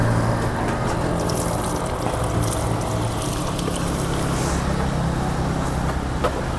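Cold water sprayed onto a hot motorcycle exhaust, a loud, continuous hissing rush of spray and steam with a low rumble beneath that holds steady from start to finish.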